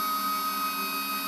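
A CNC machine's Z-axis stepper motor raises the spindle, giving a steady, close mechanical whine with constant tonal hum and no pauses.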